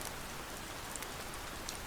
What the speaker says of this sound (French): seulement la pluie